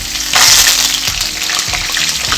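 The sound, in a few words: ginger, garlic and curry leaves sizzling in hot oil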